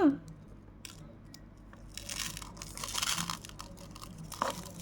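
A paper packet of bubble tea powder tears open near the mic in a series of dry, crinkly rips and rustles that swell midway, with a faint sharp crackle near the start.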